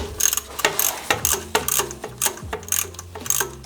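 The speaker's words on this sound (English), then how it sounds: "I just loosened the bolt on the underside" A ratchet turns a bolt on the underside of a Honda Civic with a D14 engine, giving a rapid series of close, loud metallic clicks in short bursts with a few brief pauses.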